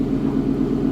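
A Ford Mustang S650 engine is revved remotely, giving a brief, steady low rumble heard up close and alone.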